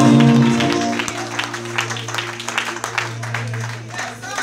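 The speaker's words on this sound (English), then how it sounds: "Somebody clap your hands and give the Lord a round of applause." A church congregation in Brooklyn breaks into applause, a dense, steady patter of clapping under a sustained organ or keyboard chord, with voices calling out over it.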